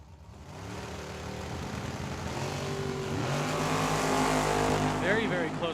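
At Tucson Dragway, a Chevy Vega and a Camaro launch side by side in a drag race, engines swelling into a loud rising roar, with an announcer's voice over the noise.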